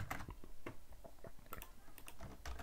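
Code being typed on a computer keyboard in a web-design lesson, a quick run of irregular close clicks and key taps, fairly quiet, with no one talking.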